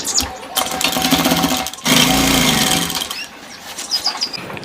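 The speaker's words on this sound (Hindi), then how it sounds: "दूसरा बाजू फिट कर देना है डबल सिलाई के साथ में" Sewing machine double-stitching the sleeve of a gents' kurta, loud close motor whir in two long runs separated by a brief pause, then slower uneven stitching toward the end.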